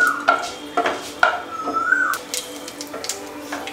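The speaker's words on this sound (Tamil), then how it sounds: "நான் ஆயில் ஊற்றி கடுகு போட்டிருக்கேன்." Mustard seeds in hot oil for a potato roast, sparse crackling and popping over a low sizzle, mixed with clinks and scrapes of a metal pan and utensil, close by, no voices.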